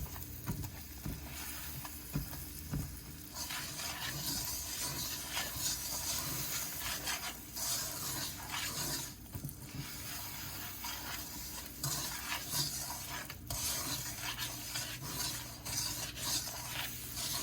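Butter and sugar being stirred in a pan for German chocolate frosting, a steady scraping and rubbing with soft sizzling underneath, continuous and close throughout, with no voices.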